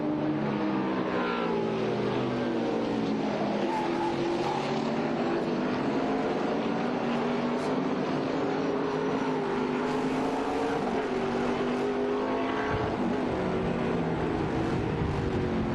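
A Ligier LMP3 race car accelerates hard through the S's of a circuit during an endurance race, its engine note climbing in repeated rising sweeps, heard at a moderate distance against a steady background roar.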